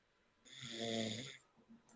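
A person on an online call snores once: one long, nasal, rasping inhale that swells and fades, heard faintly through the call's audio, followed by a few light rustles.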